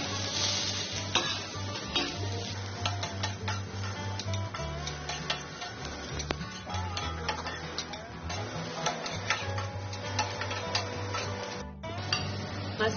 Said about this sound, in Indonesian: Kita tumis sampai matang.